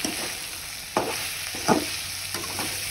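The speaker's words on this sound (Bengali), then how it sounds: "পটল ভাজি হচ্ছে।" Sliced pointed gourd (potol) fries in a pan with a steady close sizzle, broken by a few soft scraping knocks of stirring.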